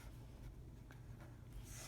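A pen scratches numbers onto paper, faint and close, with short soft strokes in a quiet room and no talking.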